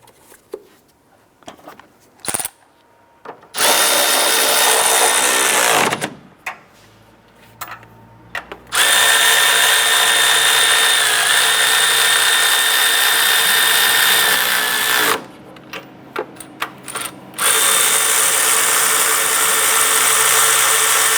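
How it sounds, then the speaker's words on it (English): Nuts being tightened on the engine mount of a 2001-2005 Honda Civic with a power tool, loud sustained whirring bursts separated by quiet gaps holding small clicks and ticks. "Once these are on, we'll go ahead and snug them down."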